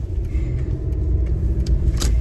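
Low, steady road rumble from a car being driven, with faint rattles and small jingles on top and no one talking.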